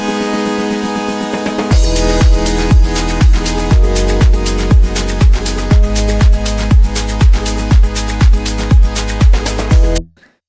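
Afro house track with a soft intro swelling into a loud drop of punchy, evenly spaced kick drums under layered synths, driving steadily for about eight seconds before cutting off abruptly.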